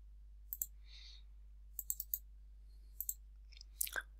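A computer mouse clicks a few times in a quiet room, sparse crisp clicks in small pairs and clusters spread across the moment, with a faint soft rustle between them.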